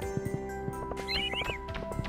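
A horse in the video game Stardew Valley snorts and whinnies amid a few clip-clop hoofbeats, set against a steady tonal background hum.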